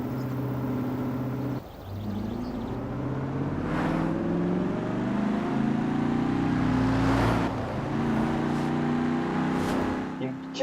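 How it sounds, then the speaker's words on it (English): Dodge Hellcat in sixth gear in Forza Horizon 4, a steady engine drone with a faint supercharger whine rising slowly in pitch, and a voice talking over it. "You can just about hear that supercharger."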